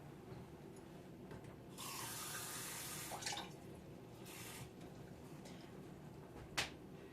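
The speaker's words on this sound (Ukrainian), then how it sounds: "Вливаємо сюди 100 грам томатного соку і 100 грам води" Tomato juice and water pour into a pot in a couple of short bursts, with faint splashing and a small clink over a quiet room.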